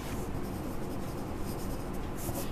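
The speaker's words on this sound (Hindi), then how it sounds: "डायगोनल्स मैं यहाँ लिखती हूँ" Pen or marker writing on paper while diagonals are drawn across a 4x4 magic square, a steady close scratching with no talk over it.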